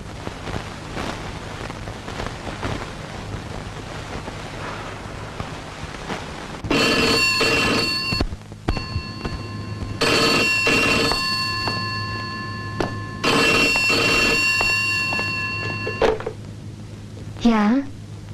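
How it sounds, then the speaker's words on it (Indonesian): An old landline telephone in a 1976 film rings in repeated bursts of bright electric bell trilling, loud and close, over a background of rain-like hiss and low ambient noise. "Tina, telepon untukmu dari rumah sakit, dari dokter di sana."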